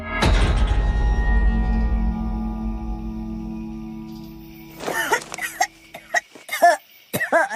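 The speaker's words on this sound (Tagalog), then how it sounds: "dinalahit siya ng ubo gaya ng dati" A heavy resonant thud rings out and fades, then an elderly woman's run of harsh, strained coughs and throat sounds comes in bursts close up.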